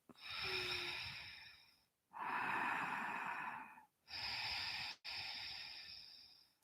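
Slow, long breaths out during a slow-flow yoga session, three extended airy exhales separated by short pauses, close and soft with no talking.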